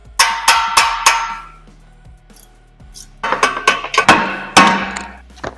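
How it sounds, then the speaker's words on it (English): A hammer strikes the sway bar end link on a T1 VW Touareg 4.2 V8 during engine and drivetrain removal, loud ringing metallic clangs in two clusters of blows separated by a short pause. "I would like to take a little break from hammering that thing"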